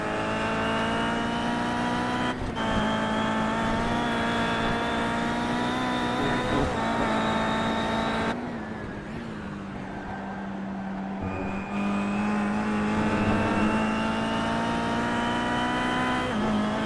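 A Kia touring car's engine drones steadily from on board during a lap of Donington Park GP in iRacing, with gear changes and a brief dip in revs under braking before it climbs again.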